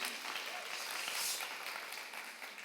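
Steady applause for the musicians from an audience at a talk series, a dense wash of clapping that holds level and tapers slightly at the end.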